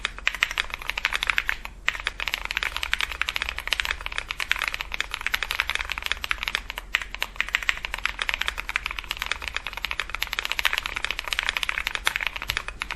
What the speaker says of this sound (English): I'm gonna also do a M1 keyboard sound test,